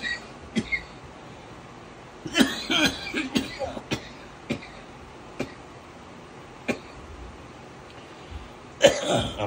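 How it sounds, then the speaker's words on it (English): A smoker coughing outdoors: a scattered series of short, dry coughs over about nine seconds, some single and some in quick clusters, close and fairly loud against quiet background noise. "I'm smoking, that's why I'm coughing."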